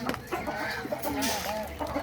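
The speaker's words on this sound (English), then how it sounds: "So we're feeding our duck and chicken with my boy." Chickens and ducks on a farm cluck and chatter busily while being fed, a dense, close flock with overlapping calls and some rustling, and faint speech mixed in.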